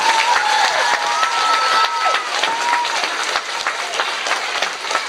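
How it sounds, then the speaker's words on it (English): A crowd applauds in a dense wash of clapping, loud and sustained for the whole stretch, with a few whistles and faint voices mixed in, at a public event with the NFL's Buccaneers and J.C. Penney. "Let's give J.C. Penney and the NFL and the Buccaneers a round of applause for having us here today."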